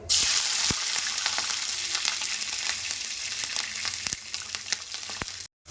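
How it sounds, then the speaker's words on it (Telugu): Chopped green chillies fry in hot oil for a sprouts curry, giving a continuous bright sizzle with occasional spatters and stirring taps. The sound is steady and close, then cuts off abruptly near the end. "ఇప్పుడు మనం దాంట్లో మనం కట్ చేసుకున్న పచ్చిమిర్చి ఉంది కదండి, అది వేసేసుకుందాం."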